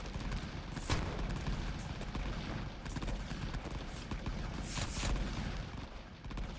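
Grenade blasts and gunfire in the war game Rising Front, a dense battlefield rumble of shots and booms with a few louder explosions standing out, continuous and mid-distance.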